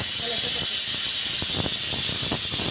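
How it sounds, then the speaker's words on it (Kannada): A pressure cooker cooking massoppu saaru, a greens-and-lentil curry, releases steam in a continuous, loud, rushing hiss, with faint voices beneath it. "ಇವಾಗ 2 ವಿಸಿಲ್ ಹಾಕ್ಸ್ಕೊಳ್ಳೋಣ."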